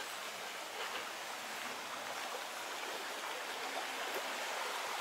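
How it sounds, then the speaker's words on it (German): The shallow Küstrinchenbach creek, its water level under 30 cm, flowing with a steady, even rush of close water that fills the scene without any voices. "Hier unten der Küstrinchenbach, der aber aufgrund Pegelstand unter 30 cm derzeit nicht beschiffbar ist."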